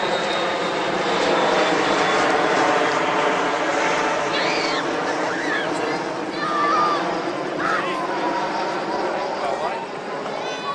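A fixed-wing airplane coming in to land near a U13 girls' game, its engine a sustained loud drone filling the whole stretch, with a faint whistle on top.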